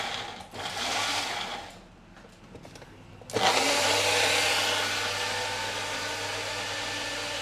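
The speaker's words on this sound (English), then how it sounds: "I always feel a bit bad putting on blenders with people with headphones" A cheap Magic Bullet-style blender from Amazon starts up with a sudden loud whir after a quieter stretch of mechanical rattling, then runs steadily and close by until the end.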